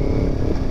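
A big-engined motorcycle with a loud exhaust rumbles close by in a brief, dense, continuous burst of low engine roar.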